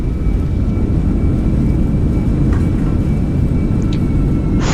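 Sri Lankan airliner touching down at Skiathos airport with spoilers deployed and reverse thrust applied: a loud, steady broadband roar of engines and rushing air filling the whole stretch, with no voices.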